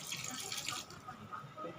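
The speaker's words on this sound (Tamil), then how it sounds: "தேவைக்கேற்ப தண்ணி." Water is poured into mutton in a pressure cooker, a brief, quiet trickling splash with no talk over it.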